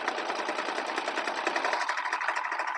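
A serger sewing machine runs fast and steadily while stitching Christmas napkin fabric, a close, continuous rapid whirring chatter with no pauses.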